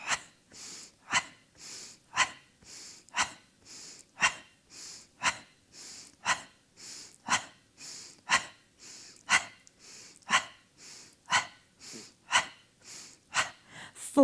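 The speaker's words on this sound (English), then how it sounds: "And let's add that pumping breath again." Rhythmic pumping breath during a Pilates exercise: about two dozen short, forceful exhalations at a steady, even pace, close and clear with no talking.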